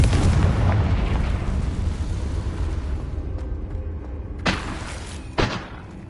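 A Confringo fire spell explodes in Hogwarts Legacy with a loud, rumbling blast that fades over several seconds, followed by two sharp bursts near the end.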